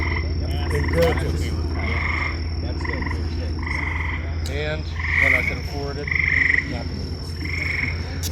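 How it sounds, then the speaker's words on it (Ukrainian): Frogs croak in a small backyard pool behind trees in a village garden in the USA, repeated nasal calls pulsing steadily over a constant low hum, fairly close and clear in the evening air. "І завжди жаби там якісь квакають."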